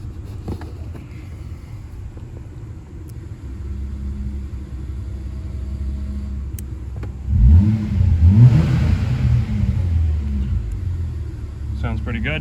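A Volvo S60 fitted with a BadlanzHPE electric exhaust cutout idles with a low rumble, then the cutout opens and the engine revs into a louder, deeper burst before settling into a throaty idle.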